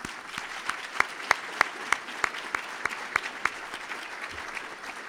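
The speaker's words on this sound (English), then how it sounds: "Let's give the honorees one more round of applause." Steady applause from a seated audience honoring business hall of fame inductees, with a dense wash of clapping and a few sharper, louder claps standing out at an even pace across the whole stretch.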